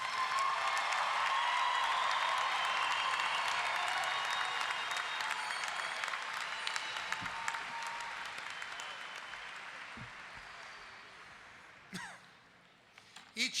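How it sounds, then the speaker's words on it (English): Applause for graduates at a law school commencement, a large crowd clapping loudly and continuously, then slowly tapering off into scattered claps and quiet room noise near the end. "One more round of applause for every graduate tonight."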